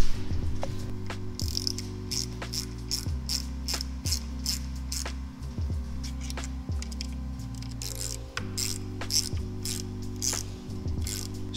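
Ratchet wrench clicking in repeated bursts as a nut and lock washer are tightened onto a Honda Rebel quarter fairing, close and steady, over faint background music.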